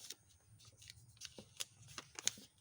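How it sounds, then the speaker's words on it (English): A square sheet of paper is creased and folded in half for an origami butterfly, giving faint, close rustling and crisp little crackles over quiet room noise. "You have to fold like this in half."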